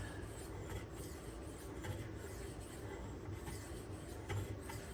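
A Benchmade 2551 Mini Reflex knife with 154CM steel scrapes against a Naniwa whetstone in a faint, continuous gritty rasp of steady back-and-forth strokes, with no talk.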